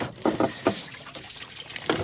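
Coolant pours and splashes out of the radiator of a 2004 GMC 3500 Duramax pickup, a close irregular liquid gush with a few louder sloshing bursts.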